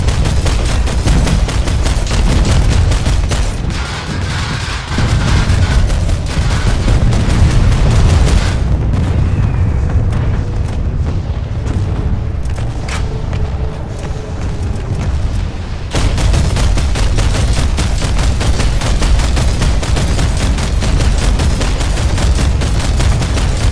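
Many people shoot at once in a dense, nonstop roar of rapid gunfire, loud and continuous, easing briefly in the middle before surging back to full intensity.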